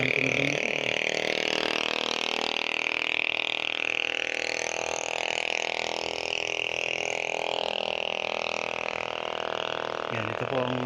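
A loud motor engine running steadily at close range beside a property frontage in Pila, Laguna, a dense droning roar with a raspy edge that holds constant throughout.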